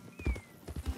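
A horse gallops at full tilt in the video game Red Dead Redemption 2, giving a quick run of heavy, rhythmic hoofbeats close by.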